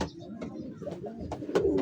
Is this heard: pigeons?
yes